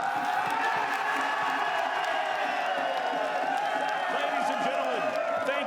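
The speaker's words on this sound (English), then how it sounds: "another round of applause for your National League champions, Auckland City FC" Large stadium crowd applauding and cheering at the National League championship trophy presentation for Auckland City FC after the 2022 final against Wellington Olympic, a steady, dense wash of clapping with scattered whoops throughout.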